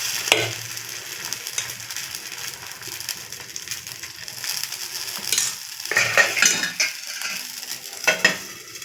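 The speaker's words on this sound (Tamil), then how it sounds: "இப்போ பன் தோசை தாங்க ஊற்ற போகிறோம்." Bun dosa batter cooks on a hot pan with a soft, continuous sizzle, broken by scraping and stirring strokes and light clinks of a utensil against the pan.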